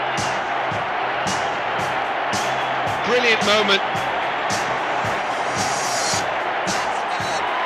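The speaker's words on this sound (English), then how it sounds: "And the crowd go absolutely delirious." A football crowd at the Everton FA Cup final roars in continuous, loud cheering, with a few sharp claps and whoops in it and a commentator talking over it.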